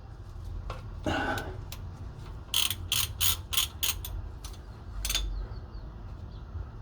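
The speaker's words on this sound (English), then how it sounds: "So this is your nut, obviously your sump plug, you want to loosen it." A ratchet works loose the oil sump plug on a Honda Civic EP3, giving one early burst of clicks and then a quick run of about six sharp, evenly spaced ratcheting clicks, followed by a last single click, close and alone.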